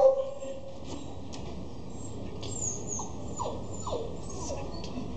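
A dog whimpers softly in a few short, high whines over a quiet background hiss.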